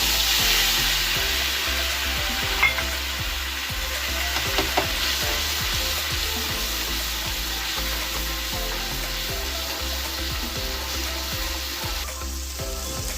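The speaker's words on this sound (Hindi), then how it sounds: "तो हम डालेंगे पेस्ट लहसुन अदरक का।" Steady sizzling of garlic-ginger paste frying in hot oil with cumin, with occasional stirring scrapes, close and continuous.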